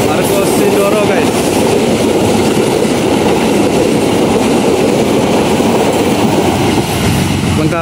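The Argo Sindoro passenger train rolls past close by on a straight stretch of track, a loud, steady rumble with wheel clatter that fills the whole clip and continues without a break.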